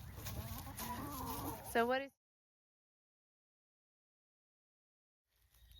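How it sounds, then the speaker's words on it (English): Several chickens cluck and squawk close by, with a rising rooster-like call near the end, followed by a long silence and faint sound returning. "So what has been the best part of having chickens for you, Scrump?"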